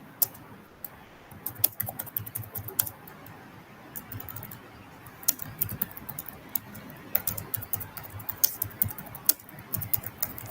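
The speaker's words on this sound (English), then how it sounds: "Meanwhile, Yukti is typing." Someone typing on a computer keyboard in an office, with irregular bursts of crisp key clicks and taps that come in quick runs with short pauses, fairly close and moderately quiet.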